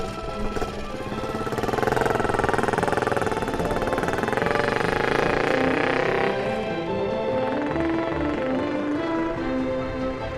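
A 1970 BSA Starfire 250 motorcycle with a 25-horsepower single-cylinder engine runs close by, its exhaust note rising and falling through a revving pass and settling toward a steadier throb.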